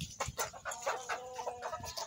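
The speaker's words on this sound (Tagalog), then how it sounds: "Ito yung mga manok." Chickens, including laying hens and roosters, cluck repeatedly in a farmyard, with short irregular calls overlapping at moderate distance and no voices.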